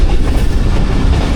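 Millat Express train rolling along a railway line in Pakistan, a loud, steady rumble of wheels with faint clickety-clack on the rails, close by and unbroken, with no talking.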